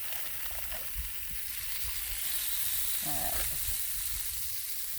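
Sausage sizzles steadily on a hot outdoor griddle, a continuous close frying hiss with a brief word spoken over it.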